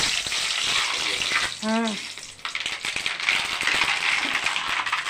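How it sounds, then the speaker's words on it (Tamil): Mustard seeds hitting well-heated oil for temple-style puliyodharai, a steady broadband sizzle that runs throughout, briefly broken by a short tonal squeak near the middle. "எண்ணெய் நல்லா காஞ்சிடுச்சு கடுகு போட போகிறோம்"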